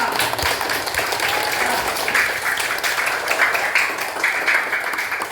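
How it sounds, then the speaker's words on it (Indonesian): A classroom of students claps steadily for a classmate, a dense, even patter of applause that stays loud throughout. "tepuk tangan dulu buat Najwa"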